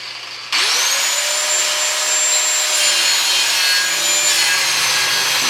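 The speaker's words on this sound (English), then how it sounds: "So I'll go get my grinder and grind that out just a touch more." An angle grinder bites into a wooden porch hand rail, a loud continuous whining grind starting abruptly after a brief quieter lead-in and holding steady, close up with no talking.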